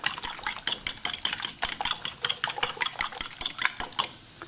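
Eggs are beaten in a bowl for a Western omelet, a whisk or fork clicking rapidly against the side in a fast, steady rhythm of sharp taps, close and alone.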